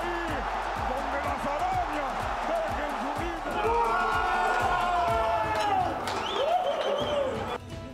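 People gathered in the Mexican Senate to watch a Mexico World Cup match shout and applaud when goals are scored. A loud, sustained roar of voices rises and falls, with rhythmic chanting cries and clapping mixed in.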